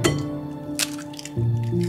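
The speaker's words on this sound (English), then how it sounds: "now that we got the eggs in there, we're gonna pour in the milk" Milk pours over eggs in a bowl, a wet, splashing trickle heard up close under steady background music.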